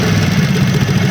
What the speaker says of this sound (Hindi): बनाने से पहले आप इंजन की आवाज़ सुन लें